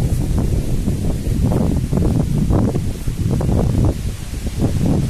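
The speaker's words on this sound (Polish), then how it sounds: "No wiatrzysko, rano padało," Strong gusty autumn wind buffets the microphone in loud, rumbling surges, with a faint rustle of leaves underneath and no voices.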